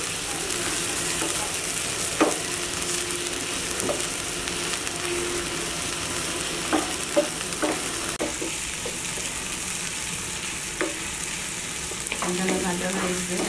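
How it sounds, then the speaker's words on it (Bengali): Shrimp frying lightly in oil in a pan for chingri posto, a steady crackling sizzle throughout with occasional utensil clinks and scrapes from stirring, close and continuous with no talk. "হালকা একটু ভেজে নেব কারণ চিংড়ি মাছ বেশি ভাজতে গেলে শক্ত হয়ে যাবে"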